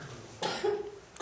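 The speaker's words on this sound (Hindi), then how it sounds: "खांसी आ रही है कुछ काफी" A single harsh cough bursts out close by, followed by a brief rasping trail and a short second catch at the end.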